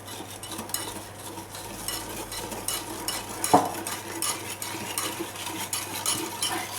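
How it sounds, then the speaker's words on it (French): Sugar and eggs whisked briskly in a bowl for a chocolate cake batter, a steady scraping, tapping rhythm of utensil against the bowl, close and moderately loud, with no voices. "Maintenant, je vais battre ça, enfin le sucre et les œufs rapidement"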